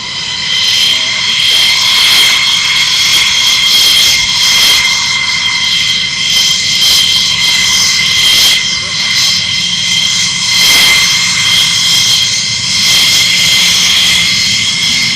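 Military jets taxiing on the airfield taxiways at RAF Lakenheath, a loud, sustained engine roar with a steady high-pitched whine, close and unbroken, while people talk over it.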